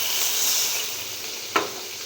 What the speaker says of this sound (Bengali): এখন আমি হালকা পানি দিয়ে দিব।